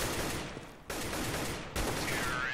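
Gunfire in Counter-Strike on de_dust2 during a mousesports versus Natus Vincere match: three loud, sharp shots spaced almost evenly apart, each with a short decaying tail.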